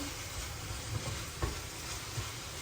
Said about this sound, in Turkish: Soğan kavurdum bir tane büyük boy. Kıymayı ekledim.